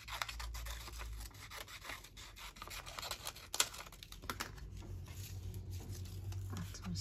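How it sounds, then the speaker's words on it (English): Scissors snipping quickly around paper pieces for a craft journal, a series of faint crisp cuts and scratchy rustles close by with no talking. "Just do a whizzy little sort of vague sort of fussy cut here."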